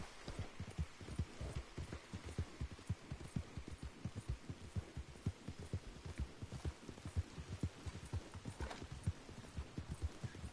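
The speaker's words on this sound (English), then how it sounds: "This does not seem like a very fast horse," Steady, rapid clip-clop of horse hooves in the video game Red Dead Redemption 2, in a driving rhythm, continuous and fairly close throughout.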